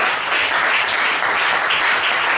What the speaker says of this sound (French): On acclame le nom de Jésus-Christ